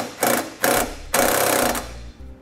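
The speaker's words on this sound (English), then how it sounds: "Take one of the self-tapping screws provided in the kit and I attach it to the frame." A power drill drives a self-tapping screw into a vehicle's frame while a trailer wiring harness ground is installed, heard as three close, loud whirring bursts, the last and longest one tapering off.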